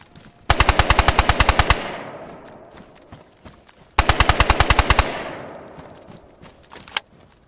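Automatic gunfire in DayZ on the Livonia map: two loud rapid full-auto bursts of about a dozen shots each, each trailing into a fading echo, then a single isolated shot near the end.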